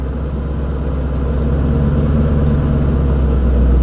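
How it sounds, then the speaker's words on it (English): A manual-transmission car's engine idles and then builds in a steady low rumble as the clutch is eased out, with the throttle rising gently and the car starting to roll, no voices over it. "as you're releasing your clutch, nice and gently, you're gonna apply throttle nice and gently"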